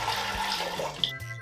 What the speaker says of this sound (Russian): Наливаем 2 литра воды.